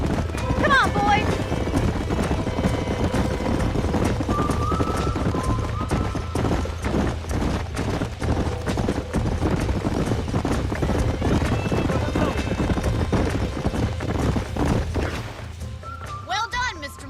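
Horses galloping in the Western video game Red Dead Redemption, a steady run of loud hoofbeats with a whinny, under in-game talk, slowing near the end.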